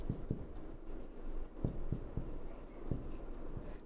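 Chalk or marker writing on a board, with soft taps and strokes at an uneven rhythm in a quiet room.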